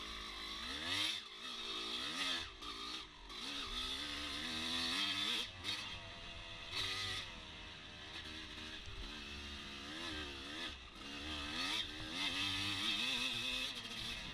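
Off-road dirt bike racing in a GP at Fox Valley, an engine rising and falling through throttle blips and revs as the rider eases off on a downhill, steady and close with no talking.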